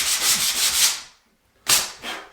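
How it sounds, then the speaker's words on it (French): Hand sanding of joint compound over taped plasterboard joints during a house renovation: close, loud gritty rasping strokes in a rhythmic run, a brief pause, then more scraping passes. "j'ai poncé un peu partout"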